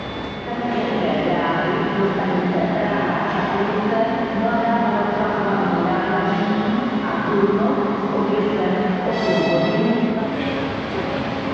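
A train rumbles steadily into a station in Prague with a low, continuous roar and faint metallic squeals, loud throughout with no pause.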